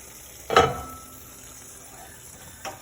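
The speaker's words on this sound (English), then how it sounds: "I'm going to go ahead and give this a stir" A spoon stirs chicken corn chowder in a pot, one clear knock and scrape against the rim followed by a quiet lull and a softer second tap near the end.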